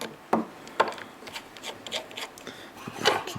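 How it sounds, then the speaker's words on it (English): Small Torx T6 driver backing out the body screws of a Schrade SC60BT button lock knife, with a few sharp close clicks and light scraping, faint rubbing and handling noise between them. "So now let's take the body screws out first, which is the T6."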